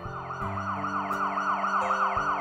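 Ambulance siren wailing in a steady, repeating up-and-down sweep over a low engine rumble, loud and close throughout with no other sounds.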